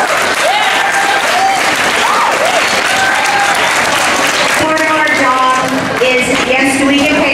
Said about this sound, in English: And to you kids, you can show us a round of applause